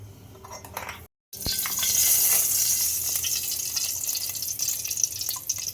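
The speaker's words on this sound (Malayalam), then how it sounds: "ഇപ്പോൾ ചട്ടി ചൂടായിട്ടുണ്ട് നമുക്ക് കുറച്ച് വെളിച്ചെണ്ണ ഒഴിക്കാം" Coconut oil poured into a hot pan for an egg roast, a steady broadband hiss and sizzle that swells after a brief silent gap and holds loud to the end, with faint clinks underneath.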